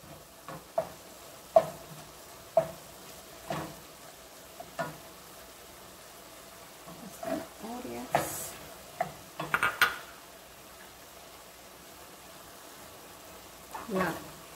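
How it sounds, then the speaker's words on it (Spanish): Potatoes and vegetables fry quietly in a pan for picadillo while a utensil scrapes and stirs in sharp intermittent knocks against the pan, with faint sizzling underneath. "llegó el momento de agregar las verduras"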